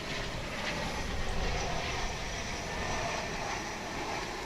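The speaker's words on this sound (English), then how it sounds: "It's coming in here on the west side of DFW Airport on runway 18 right." An American Eagle airliner landing on runway 18 right at DFW Airport, a steady broad jet roar holding level throughout, heard from a distance with no voices.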